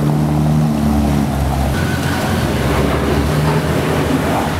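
A rare Alfa Romeo 166 rolls past at an outdoor car meet, a steady engine drone with low rumble and broad road noise, close and fairly loud throughout.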